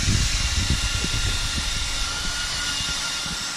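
Several cooling fans running on a custom RC car with homemade carbon fiber side skirts and undershield, a steady close broadband whoosh with faint low thumps, no talking.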